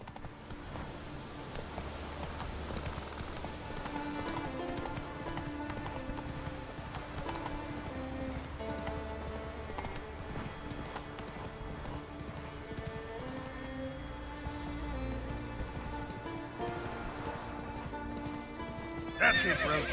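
Horse hooves clip-clopping at a steady run with whinnying neighs, heard in The Witcher 3: Wild Hunt, over a continuous layer of game music and ambience for the whole stretch.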